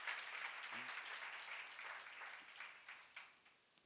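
Faint applause from a church congregation during a Korean sermon on Isaiah, a soft wash of clapping that thins out toward the end, with a few isolated claps.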